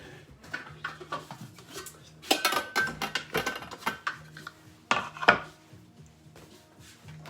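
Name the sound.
clean bowl being taken out and handled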